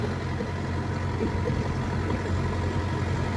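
A tractor fitted with a front end loader raises its boom on a New Zealand farm at silage feeding time, a steady low engine drone running close and unbroken throughout.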